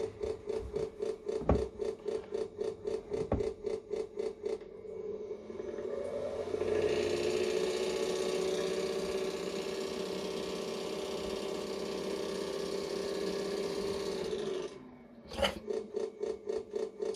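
A small engine sound module in a Tamiya Scania 770S 8x4 model truck idles with a steady rasping drone for several seconds, between stretches of rhythmic pulsing clicks at start and end.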